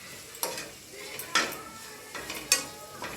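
A spoon stirs bitter gourd curry (kakarakaya pulusu) in a pan, giving three or four distinct metallic scrapes and clinks against the pan over a soft, continuous sizzle, close and clear with no talk.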